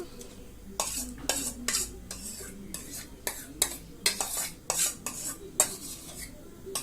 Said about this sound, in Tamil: கிளறி விட்டு நல்லா கொதிக்க விடுங்க.